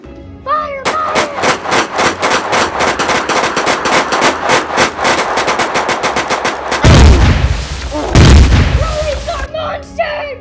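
Rapid bursts of toy or staged gunfire crackle steadily in a homemade backyard war movie, then two heavy explosion-like booms land near the end, with voices shouting around the noise.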